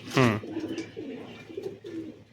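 Pigeons coo close by in several short, throaty rolls after a brief sharp sound at the start, set among fancy flying pigeons such as Giribaz and Madrasi.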